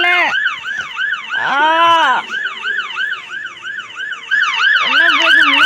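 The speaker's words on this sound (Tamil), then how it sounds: "ஆம்புலன்ஸ் வந்துடுச்சு சார்" An ambulance siren wails loud and close, its pitch sweeping up and down in a steady repeating cycle that runs through the whole stretch and swells toward the end.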